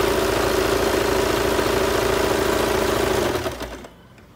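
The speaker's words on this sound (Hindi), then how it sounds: "इस तरीके से आपने इसको स्टिच कर कंप्लीट करना है।" A sewing machine runs steadily while stitching a palazzo, a loud continuous motor whir with a rapid needle rhythm that slows and stops near the end.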